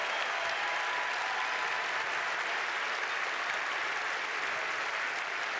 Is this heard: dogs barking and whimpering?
no